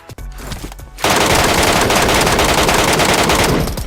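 Sustained rapid automatic gunfire in PUBG Metro Royale bursts in after a brief quieter moment, loud and dense, continuing without pause to the end.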